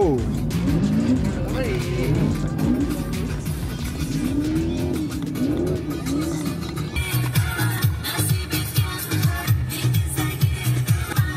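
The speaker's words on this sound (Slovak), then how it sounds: "Bola to riadna premávka." Busy road traffic with cars passing close by, a continuous rumble of engines and tyres rising and falling, heard under lively conversation from people nearby.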